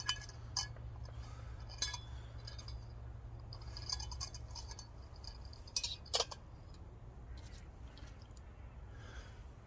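Small alcohol (methylated spirit) stove clinking as it is shifted about while stealth camping: sparse, faint metallic clinks and taps scattered through near-silence with a low steady hum.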